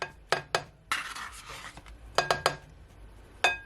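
Cream cheese spooned into a mixing bowl for a chicken-breast stuffing, with sharp utensil clanks and taps against the bowl in quick clusters, close up and without talk.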